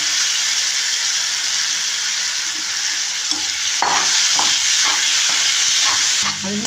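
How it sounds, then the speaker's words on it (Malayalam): Chopped mango drops into hot oil with turmeric and asafoetida for a mango pickle, setting off a steady loud sizzle, followed by scraping stirs and a few clatters against the pan. "കായിട്ടതിന് ശേഷം അരിഞ്ഞു വെച്ച മാങ്ങ ഇതിലേക്ക് ഇടാം"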